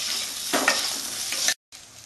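Potato, onion and chili sizzle and fry in a pan, with a louder burst partway through as they are stirred. The sound breaks off briefly near the end.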